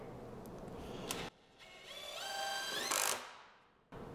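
A Milwaukee Surge hydraulic impact driver drives a bolt in two close bursts of whirring, rising mechanical rattle, the second longer and climbing in pitch before cutting off, with quiet gaps between.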